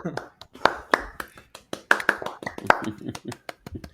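A few people clap unevenly in a small studio, sharp, scattered, uncoordinated claps close to the microphone, mixed with talk and laughter.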